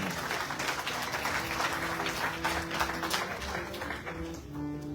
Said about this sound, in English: Give a big applause, please.